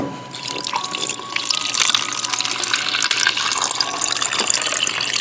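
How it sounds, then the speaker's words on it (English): Vegetables are washed under a running kitchen tap, with water splashing and pattering steadily into the sink and over the produce, close and continuous. "W for washing. Let's wash vegetables."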